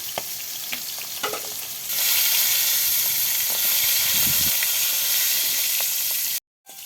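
Pieces of country chicken fry in hot oil, a loud, continuous close-up sizzle with occasional stirring scrapes that swells after a couple of seconds and cuts off briefly near the end.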